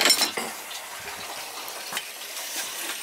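Water from a gas boiler system purging out through a hose, a steady hissing, gushing flow that holds fairly constant for a few seconds with no talk.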